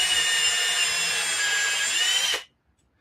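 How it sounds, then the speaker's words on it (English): A power drill whirs steadily at high speed, boring into wood close by, then stops abruptly into silence. "You can get my drill out."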